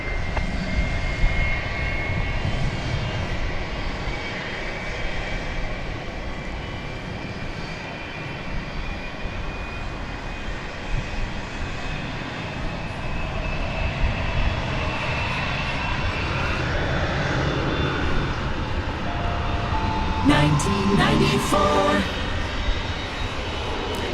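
An airliner roars loudly at DFW Airport for a long stretch, a broad sustained engine rumble with a faint whine, joined late by a burst of crackly radio-like noise.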